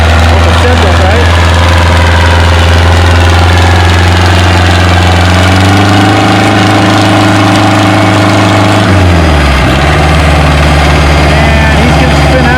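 Ford 800 tractor at a spring tractor pull near Othello, Washington, its engine droning loud and close, holding steady before the pitch shifts and drops near the end, with an announcer talking over it.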